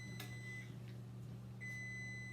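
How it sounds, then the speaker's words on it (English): A kitchen oven alarm gives two high electronic beeps roughly a second and a half apart, clear over a low steady hum. "Oops! The alarm on my oven."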